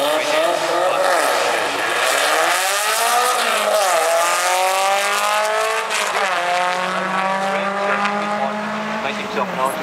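Volkswagen drag racing car at a VW drag meeting, engine revving and rising in pitch as it accelerates down the strip, loud and fairly close, with a commentator talking over it.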